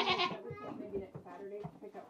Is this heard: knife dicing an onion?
no